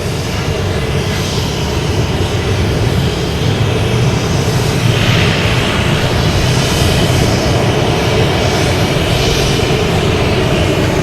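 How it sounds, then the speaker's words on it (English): Loud, broad jet roar of a Delta Embraer E175 airliner arriving from Newark at Boston Logan Airport, a sustained heavy rumble filling the whole stretch without letup. "Here's a Delta coming in from Newark,"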